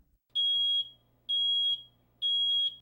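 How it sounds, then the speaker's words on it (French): A smoke detector sounds when its test button is pressed, giving three loud, piercing electronic beeps of equal length, evenly spaced with short silent gaps between them. "Si vous entendez cette alarme sonore, cela indique la présence de fumée et la possibilité d'un incendie"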